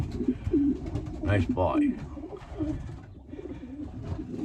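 Racing pigeons coo repeatedly, close by, while being basketed. A voice talks briefly over the soft, rolling calls.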